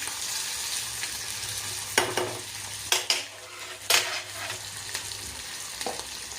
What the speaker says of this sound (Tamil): வெங்காயம் போட்ட பிறகு வரமிளகாய் போட்டு அதையும் நல்லா வதக்கிக்கலாம்